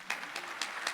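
A church congregation claps faintly in a quick, even rhythm, with four distinct claps in about a second.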